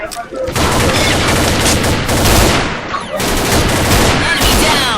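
Rifle fire in the online shooter Combat Arms, with loud rapid bursts of automatic gunfire across most of the stretch and a brief lull near the middle, while players talk over the shooting.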